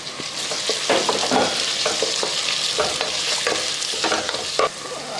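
Small onions (shallots) with sliced onion fry in coconut oil for a chicken curry, a close, lively sizzle broken by frequent scraping stir strokes of a spoon against the pan.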